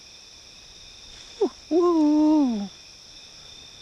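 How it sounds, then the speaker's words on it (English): An owl hoots at night in a forest: one short note, then a longer wavering hoot, close and distinct over a steady background hum of insects or wind. "No, it's an owl."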